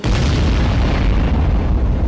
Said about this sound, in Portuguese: Centenas de explosões controladas.